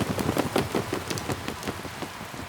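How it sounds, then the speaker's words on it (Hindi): Heavy, nonstop cartoon rain falls in a jungle, a dense patter of drops with a rapid irregular rhythm, loud and close, with no voices. "पिछले 1 महीने से बिना रुके बरसात हो रही है और ना जाने कब तक और होगी।"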